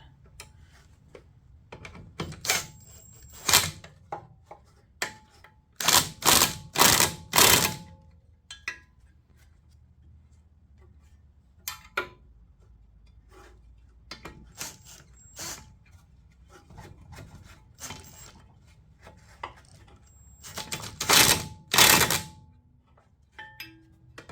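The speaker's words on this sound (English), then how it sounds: "let's get her tightened up. Got all the bolts in and the nuts and the missing lock washer." Bolts and nuts are tightened on a chipper shredder under repair, heard as scattered metallic clicks and ratcheting bursts that come in several clusters between quiet pauses, close by with no talking.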